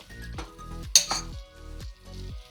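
A spoon stirs lentils and sausages in tomato pulp in a pot for a Moroccan-style dish, making rhythmic scraping sweeps against the pot with one sharp clink in the middle.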